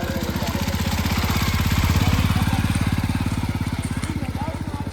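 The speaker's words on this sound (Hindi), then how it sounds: "चलानी पड़ रही है बाइक" A motorcycle engine runs on snow, thumping in a fast, even pulse at close range and fairly loud, with a slight rise in revs midway and no pause.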